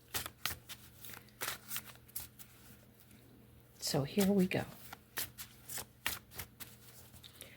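A deck of cards being shuffled close up in a brief riffle burst, with soft card handling clicks and a person talking around it.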